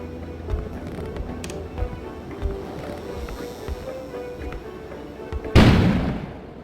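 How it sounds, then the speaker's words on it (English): A sudden loud explosion bursts out at the end, a single broadband boom over a low, rumbling ambient background. "An explosion suddenly occurred outside."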